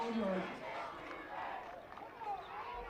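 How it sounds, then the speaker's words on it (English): Reading high school football crowd at an Ohio playoff game against Carlisle, cheering and shouting from a distance under a commentator talking throughout. "You can hear them trying to cheer their team on."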